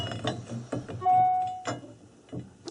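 A gearbox being handled and fitted onto a South Bend 9-inch lathe: metallic clunks and knocks, a short ringing metal tone, and scattered clinks of parts being positioned, close up with no voices.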